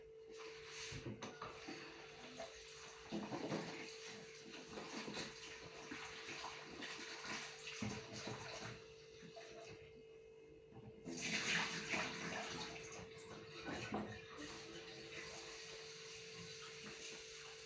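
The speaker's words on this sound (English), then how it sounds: "I'm gonna put them in here so I can rinse them" A kitchen tap runs while potatoes are rinsed in a bowl, a continuous hissing stream with a steady hum, swelling and splashing at moments as the water is moved around, no speech.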